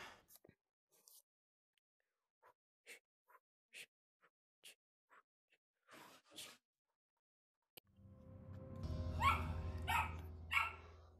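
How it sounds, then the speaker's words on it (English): A dog indoors barks at a door: scattered short, faint yips and barks at first, then a louder, busier stretch near the end. "My doggy keeps on barking."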